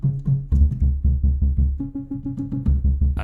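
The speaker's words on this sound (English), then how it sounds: "Also in the intro I have this simple bass sound made in Faceplant," Simple synth bass made in Phase Plant, playing a bouncy repeating pattern of short low notes that shifts pitch midway, loud and upfront with no talk.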